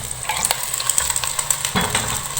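Mutton frying in a pot while being stirred, a hissing sizzle with scraping and clinking from the spoon, close and continuous with no talking.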